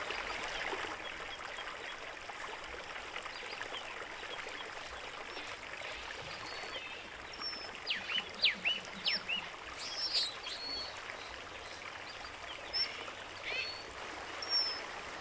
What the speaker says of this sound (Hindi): घाटी की तलहटी में मौजूद ये पानी 600 मीटर ऊंचे पहाड़ों से बहकर नीचे आता है